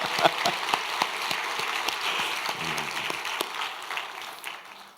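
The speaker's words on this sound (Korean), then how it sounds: "다시 한번 박수 부탁드립니다." A church congregation at a New Year's Eve blessing prayer service applauds the praise team, with dense, lively clapping from many hands that stays strong before tapering off near the end.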